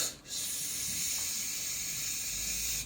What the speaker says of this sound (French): en train de uriner dans la casserole de coq